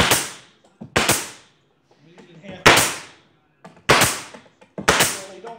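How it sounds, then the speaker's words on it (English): Staple gun tacking half-inch staples: five sharp, loud, close snaps spaced roughly a second apart, each with a short decay, with some handling noise between them. "Now I'm going to get a stapler with half inch staple and just tack this in."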